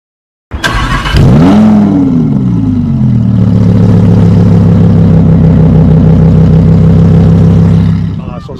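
A 2018 Audi R8 V10 RWD with a Soul exhaust fires up with a sharp bark, revs hard, then settles into a loud, rumbling, steady idle close by before cutting off at the end.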